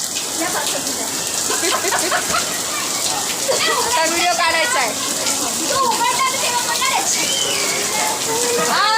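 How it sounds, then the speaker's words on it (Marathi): Steady rain pours down during a family's first monsoon downpour, a broad continuous hiss heard throughout while several people talk and call out over it. "पावसात भिजायला या."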